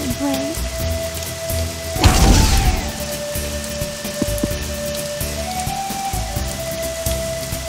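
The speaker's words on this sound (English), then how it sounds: "The rain will take some of the distance off the ball's flight, but it will help stop the ball quickly for the precision shots." Steady rain falls on a golf course in a video game, a continuous wash under ambient game tones, with a brief louder burst around the middle of the clip.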